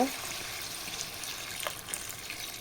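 A steady, soft rush of water pours into a pot of chicken at close range, continuing evenly throughout without any clear break.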